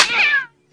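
A single cat meows in a film scene, one short, close, rising-and-falling cry that cuts off into silence.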